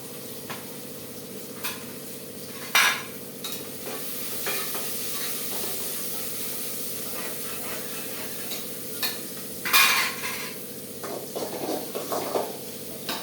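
Mutton curry with drumstick pieces cooking in a pan: soft steady sizzling and bubbling with occasional louder stirring clatters, no talk.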